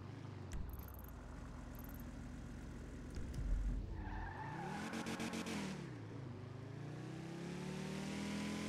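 A car engine in the NoPixel roleplay game hums steadily, rising into a revving, sweeping whine midway before settling back to a steady drone, fairly quiet and continuous, with no talking.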